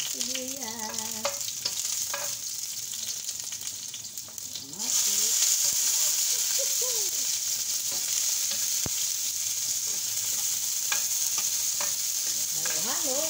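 Mussels frying in a pan with onion and ginger are stirred, with a steady loud sizzle that swells sharply partway through, scraping stirs heard over it and a few faint voices early on.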